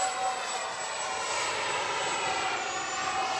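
An FMS Dassault Rafale 80mm electric ducted-fan RC jet flies overhead, making a steady, loud, high-pitched whine and rush that holds evenly throughout with no talk.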